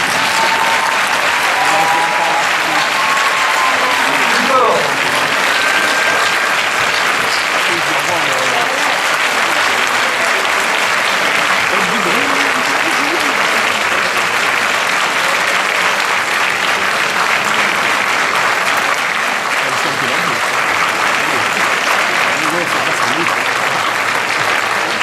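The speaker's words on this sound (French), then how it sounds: "je vais demander à tous ceux qui sont en noir ici de vous lever et d'applaudir vos proches qui sont là pour vous" Sustained, loud applause from a large audience at a graduation ceremony as families are honoured, steady clapping with some cheering and crowd noise throughout the whole stretch.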